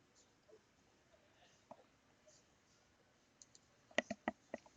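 Computer mouse clicks while drafting an arc in Autodesk Inventor, faint and sparse at first, then a quick cluster of five or six sharp close clicks near the end, no speech.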